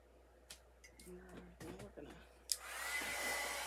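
Quiet talking and small handling noises give way to a hair dryer switching on and blowing steadily on wooden craft pieces for a homemade Frankenstein Halloween decoration, a close, even whoosh.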